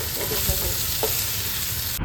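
Okra (bhindi) fries and sizzles steadily in a pan while it is stirred, with soft scraping strokes over a continuous crackle.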